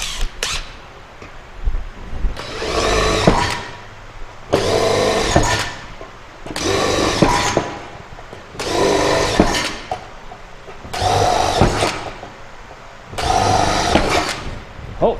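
A power drill whirs in repeated bursts of about a second each while working on a 1967 Chevelle, with short pauses between, close and loud.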